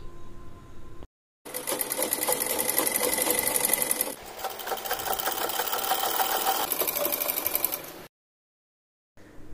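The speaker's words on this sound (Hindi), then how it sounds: "स्टिच हो जाने के बाद हम पट्टी को कुछ इस तरह फोल्ड करके एक बार और स्टिच करेंगे" A sewing machine runs in two long, steady stitching passes along a 3-inch fabric strip for a frock-style long suit, loud and close, with a brief pause between the passes and silence before and after.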